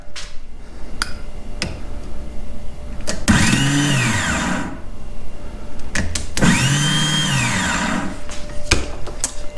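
Polaris Ranger side-by-side starter cranking in two bursts of a second or more each, with a whirring, rising-then-falling spin but no catch, separated by quiet clicks and faint background noise.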